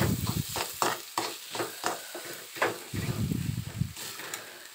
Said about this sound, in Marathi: तर व्यवस्थित त्याला परतून घ्यायचं, फिरून घ्यायचं, मिक्स करायचं